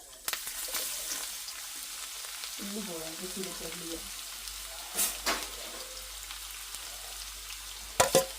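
Fenugreek seeds fry in oil for a crab curry, a soft continuous sizzle with a brief voice in the middle and a few sharp clatters of a utensil against the pan.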